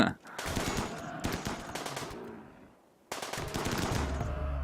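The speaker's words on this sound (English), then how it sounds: "And with these guys shooting, I mean, you can see they're pretty good shooters." Rapid bursts of gunfire from colonists shooting in RimWorld, dense machine-gun-like rattles in two clusters separated by a brief lull, loud and close.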